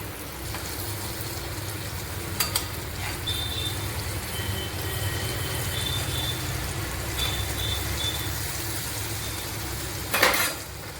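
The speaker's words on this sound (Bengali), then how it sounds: "এগুলো লাল লাল করে আমি ভেজে তুলব।" Chana dal dhoka cakes frying in hot oil in a home kitchen, a steady close broadband sizzle throughout, with a few faint clinks of a utensil against the pan.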